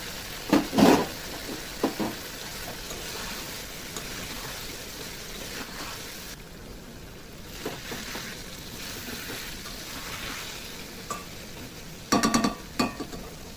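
Fried eggplant pieces are tipped into an oily chili-powder masala in a pan; a couple of clattering knocks of a spoon against metal, then low soft sizzling with occasional stirring scrapes and a few more clinks near the end.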